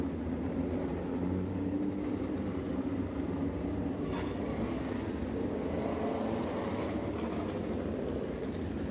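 Midget race cars lapping an indoor track at the Rumble in Fort Wayne, a dense, continuous roar of engines that swells and fades slightly as the cars pass, heard from a distance.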